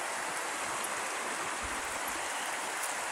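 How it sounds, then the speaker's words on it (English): The Bear River runs at about 600 cubic feet per second in January, giving a constant broad rushing roar of moving water, steady and moderately loud, with no talking. "Here we have 600 cubic feet per second flowing down Humum-Se'u, our Bear River."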